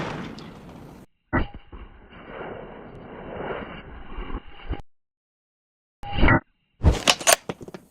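Two sharp, loud gunshots from a Silvertip .50 round fired into an engine block piston, each a sudden crack with a short ringing tail, separated by silence and followed by a burst of rapid impacts and clatter.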